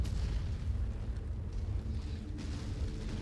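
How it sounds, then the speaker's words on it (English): Artillery explosions battering the battlefield in MechWarrior 5: a steady, fairly quiet rumbling roar of distant booms with a few sharper thuds, heard alone without voices. "Oh gosh, artillery."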